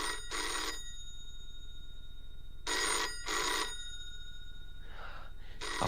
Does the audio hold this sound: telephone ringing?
yes